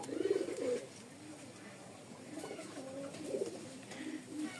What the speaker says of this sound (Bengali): এই এক জোড়া রাজশাহী টাইগার গিরিবাজ নরের ডাকটা আগে দেখাই